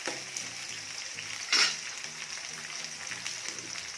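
Onion pieces fry steadily in a pan, browning with a constant close sizzle and one brief louder stir partway through.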